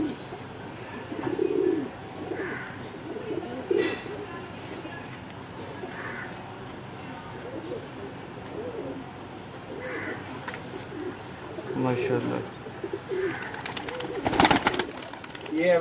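Pigeons cooing in a loft, soft repeated rounded coos at intervals with some crow-like calls and rustling among the birds, moderately near, with faint background voices.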